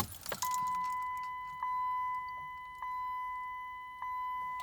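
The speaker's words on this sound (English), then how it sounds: "So you turn your ignition on, off, on" Keys jangle briefly, then a steady electronic chime tone rings with a soft click every second or so, as a car's ignition cycles.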